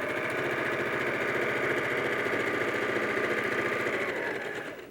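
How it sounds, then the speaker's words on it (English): A sewing machine stitches quilt fabric strips together in a steady, continuous whir with a fast mechanical rhythm, close and loud throughout before easing slightly at the very end. "So I'm going to take this and sew it to one of my lighter strips."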